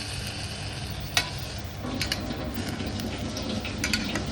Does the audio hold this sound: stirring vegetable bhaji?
yes